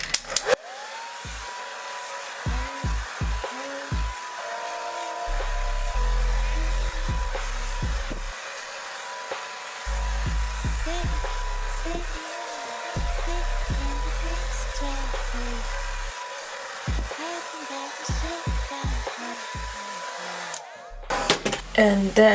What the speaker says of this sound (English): I'm just gonna get my blow dryer. It is on high setting, high heat.